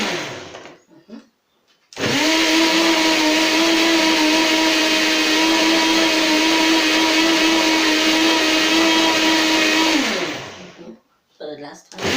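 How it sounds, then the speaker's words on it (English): A blender whirs loudly and steadily for about eight seconds, blending mixed fruit with mint leaves into juice, starting abruptly and cutting off sharply, with quieter handling noises before and after. "Then I'm going to blend it all together."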